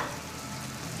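Garlic fries in a pan for a Tunisian lasagna, giving a steady, close, even sizzle that holds without a break for about a second, with no talking over it.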